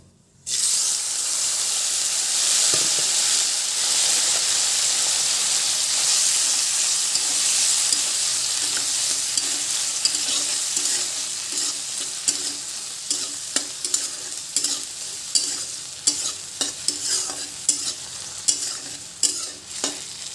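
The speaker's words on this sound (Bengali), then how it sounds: "এখন চিংড়ি মাছটা আমি ভেজে নেব।" Prawns seasoned with salt and turmeric fry in hot oil in a pan, a loud, steady sizzle that continues throughout, later broken by sharp clicks and scrapes of stirring.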